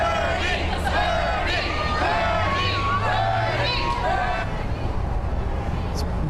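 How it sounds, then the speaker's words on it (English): A rally crowd waiting in line for Bernie Sanders at the Moda Center, a steady hubbub of many voices with rising and falling chant-like calls, under a nearer voice talking over it. "It's been pretty typical of the chanting."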